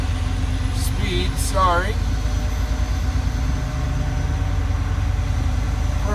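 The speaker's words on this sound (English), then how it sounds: "So, okay, the engine is started." A truck engine idles and runs up toward operating speed after starting, a steady low rumble throughout with a person briefly speaking over it near the start.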